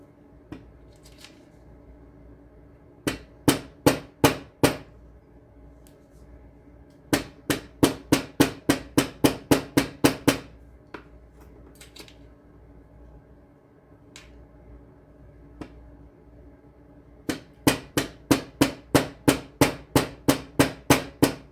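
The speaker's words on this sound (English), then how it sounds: "And hammer it into place." Bursts of rapid, sharp metallic hammer taps setting a jewelry piece into place, in quick runs, pausing between sets, close and crisp against a quiet background.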